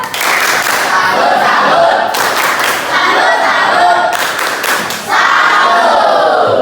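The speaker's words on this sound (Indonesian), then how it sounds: "Sekarang boleh kasih tepuk salut untuk kita semua. Tepuk tangan." A school class claps and cheers loudly in bursts, with rhythmic clapping and shouting voices that briefly dip before resuming.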